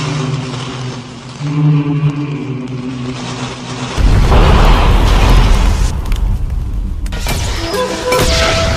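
A firecracker explosion sound effect: a quiet, tonal stretch is cut by a sudden loud boom, followed by crackling, sputtering bursts that stay loud to the end.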